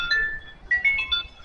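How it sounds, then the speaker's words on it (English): A short phone notification chime of a few bright, clean electronic tones, close and fairly loud, heard alone without talk. "I just got a notification that the order is ready for collection"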